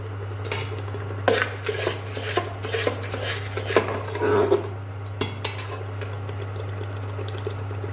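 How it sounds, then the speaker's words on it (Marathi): Spice masala for mutton vajadi is stirred and fried in a pan, with a spoon scraping and clinking against the metal over a low, steady hum and a soft sizzle. "मसाला छान फ्राय करून घेऊ आपण"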